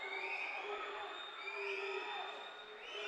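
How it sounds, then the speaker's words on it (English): A crowd at a Davenport vs Saginaw Valley State event at EKHS cheers and whoops in a steady, distant roar for about three seconds, with voices blending into the noise. "You can hear the crowd getting into this one"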